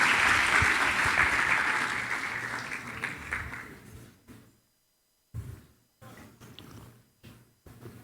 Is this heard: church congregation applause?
yes